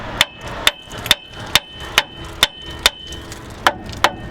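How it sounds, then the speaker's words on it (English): Sharp metallic hammer strikes on a third-generation RAM 3500's steering part ring out one after another at a steady, slightly uneven pace, about ten hits, close and loud with no talking. "after a few times hitting it with the hammer, it came off"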